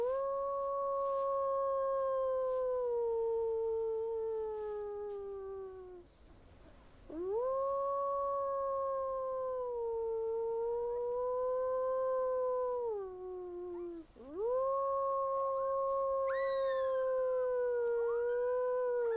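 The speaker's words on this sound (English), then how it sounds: "A young wolf howls the same way that an adult does," A young wolf gives long, sustained howls, three drawn-out rising and falling wails with brief breaks between them, loud and close with no talking.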